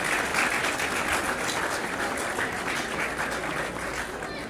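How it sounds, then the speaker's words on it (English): Crowd applause after a Junior B Championship hurling match, Rathnure versus Naomh Eanna, a dense steady wash of many hands clapping at close range that holds throughout with only a slight fade toward the end. "let's give them a round of applause"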